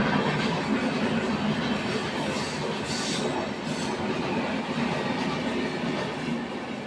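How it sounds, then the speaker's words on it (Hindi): A train rolls past nearby, a loud continuous rumble of wheels on rails with faint squeals and a rattling clatter of carriages, steady throughout with no speech. "ट्रेन को पार होने दीजिए।"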